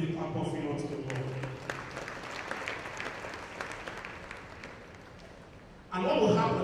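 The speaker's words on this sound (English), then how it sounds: "Can we give a clap of hands to the Lord?" A church congregation clapping hands in praise, a broad wash of applause running several seconds under ongoing talk and voices, then swelling louder again at the end.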